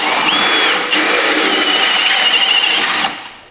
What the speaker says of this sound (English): we're gonna drill out these 3 next rivets now